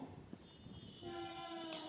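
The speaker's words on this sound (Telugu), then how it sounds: "ఇది లోకల్ ట్రైన్ అండి" A local commuter train pulls into Kacheguda station, a low rumble giving way midway to a loud, steady horn tone that holds to the end, with no talk.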